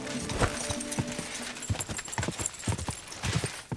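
Horse hooves clip-clop at a steady rhythmic gait across an open field in Kingdom Come Deliverance 2, the medieval open-world game, sounding close and fairly loud with game ambience underneath.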